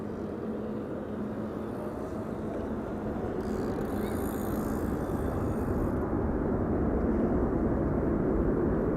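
A turboprop airliner on approach to runway 22 at Amsterdam Schiphol Airport gives a steady, low engine drone heard from a distance that grows gradually louder over the whole stretch.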